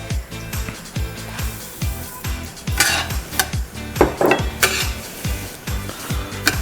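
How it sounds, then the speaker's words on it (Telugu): Broken wheat (daliya) fries in ghee for halwa while a utensil stirs and scrapes the pan, making repeated metallic clanks and scrapes over a light background sizzle, close and busy throughout. "సో ఈ ఘీ మనము బ్రోకన్ వీట్కి యూజ్ చేస్తాం దలియా కోసం, ఇది ఫ్రై చేయడానికి."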